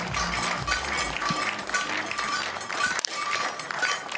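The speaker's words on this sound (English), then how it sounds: "And listen to that from the crowd." A crowd roars and cheers continuously at the men's 10m air rifle final of the European Championships in Hamar, Norway, a dense wash of sustained noise throughout.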